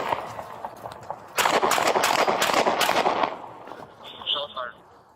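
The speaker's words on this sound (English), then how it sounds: "The officer drew his gun and fired several rounds at the suspect, who had begun running in the drainage ditch." A police officer fires several rounds at a fleeing suspect running in a drainage ditch outdoors, a rapid burst of loud, sharp close gunshots amid shouting voices, followed by quieter commotion.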